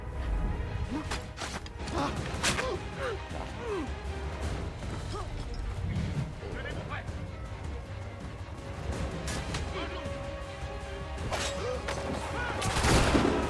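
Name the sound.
pistol gunshots in the video game Assassin's Creed 3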